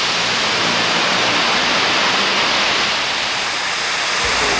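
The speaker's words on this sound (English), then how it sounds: "The river is 100 foot wide as it flows under the street and then drops 50 feet into the misty glen below." Brandywine Falls near Northfield, a 100-foot-wide river dropping 50 feet into a misty glen, roars as a steady, loud broadband rush with no other sounds over it.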